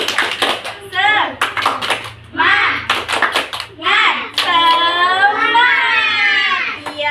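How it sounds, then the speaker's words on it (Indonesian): Children in a classroom do a rhythmic spirit clap, sharp claps in quick bursts mixed with loud chanting and shouting voices close by. "Coba tepuk semangat dulu. Tepuk semangat."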